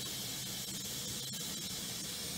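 Shiitake and carrot kasane-ni in a pot over low heat give off a constant soft hiss of steam and gentle simmering, even and unbroken, with no voices.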